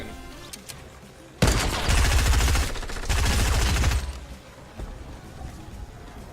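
Attack SMG in Fortnite fires one loud, sustained burst of rapid automatic shots lasting about two and a half seconds, with quieter game ambience before and after.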